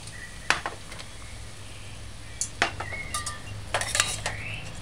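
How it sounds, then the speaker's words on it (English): Broccoli and broad beans being stirred in a pan with apple cider and cooking wine, a few scattered spoon clinks and scrapes over a low steady hiss, fairly quiet and close. "Stir it in"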